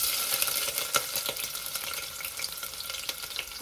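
Chopped onions sizzle in hot oil with cloves and a bay leaf, a bright, crackling fry with scattered pops and stirring scrapes, close and steady.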